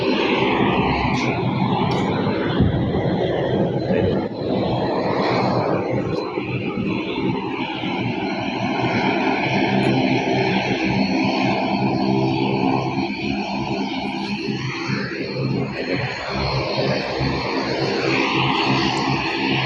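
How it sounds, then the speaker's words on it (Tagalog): Helicopter carrying the governor of Leyte during its departure, a loud continuous engine and rotor roar close by, steady and rough for about twenty seconds. "Diyan yan sasakay mga kaidol sa helicopter."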